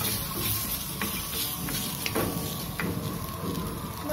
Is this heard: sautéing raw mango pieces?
yes